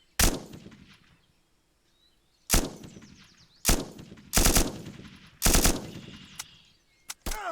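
Gunfire in the video game Eminus: several loud, sharp single shots spaced a second or more apart, each with a ringing decay, then a short faint shot near the end.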